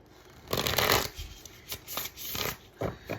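A deck of cards is shuffled close by, several quick riffling bursts with short pauses between them, crisp and fluttery.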